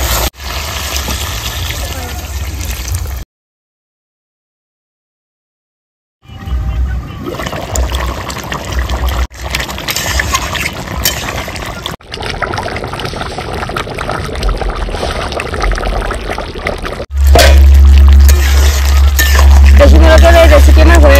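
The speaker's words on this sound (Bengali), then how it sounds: "এবার আমি দিয়ে দেবো জল।" Water poured into a pan of desi chicken curry, a loud rushing pour broken by a silent gap and short breaks, with a heavier, fuller splash near the end.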